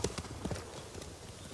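Rapid hoofbeats clatter close by as horses gallop past in Ghost of Tsushima, the rhythmic clip-clop fading slightly over a brief moment.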